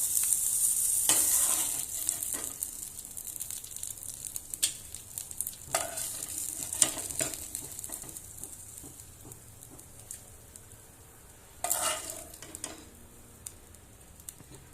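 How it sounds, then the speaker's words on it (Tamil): Fish frying in oil gives a quiet, steady sizzle with scattered taps and scrapes of a utensil stirring the pan, and a brief louder burst near the start and another near the end. "இப்போ நம்மளுடைய ஃபிஷ் வந்து நல்லா ஃப்ரை ஆயிடுச்சு"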